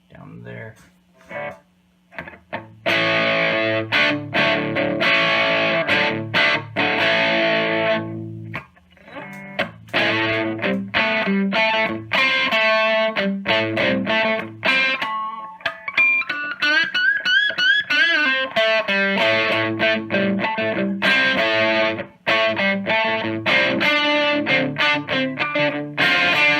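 An electric guitar runs through a Signal Flare pedal at high gain, strummed chords and single notes ringing thick and distorted, loud and continuous with brief pauses between phrases.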